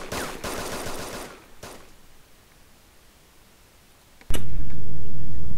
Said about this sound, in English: He's coming, he's gonna shoot.